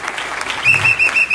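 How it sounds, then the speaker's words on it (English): Church congregation clapping for its bus drivers, a short burst of dense handclaps with a voice speaking over it. "Let's clap our hands for our bus drivers."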